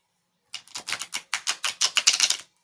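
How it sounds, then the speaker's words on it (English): A deck of playing cards being shuffled indoors: a quick run of crisp riffling flutters and snaps, close and fairly quiet, lasting about two seconds on its own. "been shuffling these cards for a while"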